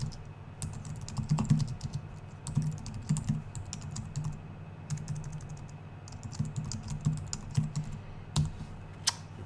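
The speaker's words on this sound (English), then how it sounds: "I'm going to type the next line." A line of code typed on a computer keyboard, bursts of quick close key clicks with brief pauses between them, no voices.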